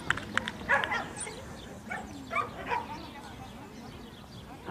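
A trained rescue dog at a school demonstration gives a few short, faint barks and yips outdoors, spaced irregularly, while a person talks over them.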